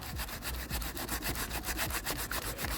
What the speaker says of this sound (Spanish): yo tengo que darle manualmente con una lija